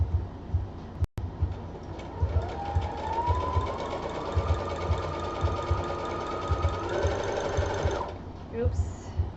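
A sewing machine stitches a skirt, fitted with its free sewing plate, running as a steady mechanical whir for about seven seconds, pitch climbing slightly as it speeds up, then stopping, with a brief clunk near the start.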